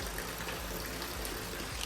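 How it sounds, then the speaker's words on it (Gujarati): Steady, continuous rain pours down outdoors in Ahmedabad, a dense, even hiss of water with no pauses or voices. "વરસાદ ચાલુ ને ચાલુ છે।"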